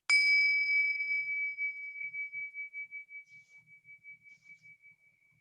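A single meditation timer bell is struck once, a bright clear ding that rings on and slowly fades over several seconds into near silence.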